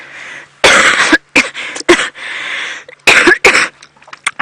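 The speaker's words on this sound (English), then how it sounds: "Sorry, and my hacking cough." A person out on a wildlife safari drive breaks into a hacking cough: a series of loud, harsh, close coughs in uneven bursts separated by short pauses, ending in a few rapid smaller hacks.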